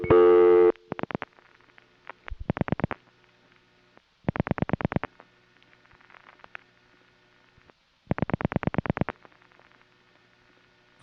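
Crossbar No. 1 telephone exchange in New York City from 1973, producing bursts of rapid revertive clicking pulses separated by quiet gaps after a short tone, sharp and mechanical, with no voices.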